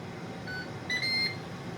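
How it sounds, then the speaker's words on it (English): Two short electronic beeps from an appliance, the second brighter and longer, faint against a quiet room hum. "something else is going to beep very shortly"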